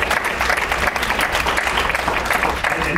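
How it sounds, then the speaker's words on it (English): An audience at a book talk breaks into a steady, full round of applause, dense and sustained from start to finish with no speech over it. "a round of applause for keeping these flames alive"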